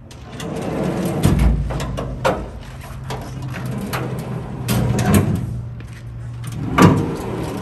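Large storage drawers on an OBI Dweller overland camper sliding open and shut, with several rolling runner rumbles and firm thuds nearby, one sharp knock at the end, and no talking.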